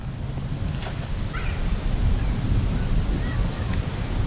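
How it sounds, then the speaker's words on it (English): Strong wind gusting before a storm in a Deep South garden, a steady, loud broadband roar with rushing surges and buffeting against the microphone throughout, no talk. "Wind's starting to pick up, come in waves"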